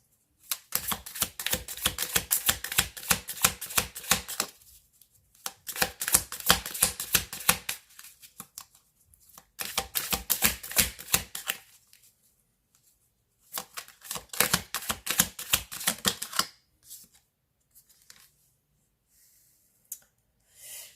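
A deck of tarot-style cards is riffled and shuffled in rapid bursts of crisp, close clicking flutters, four or five runs of several seconds separated by short pauses, with quiet tapping near the end and no voices.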